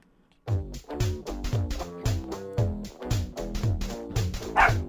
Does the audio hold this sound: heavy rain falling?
no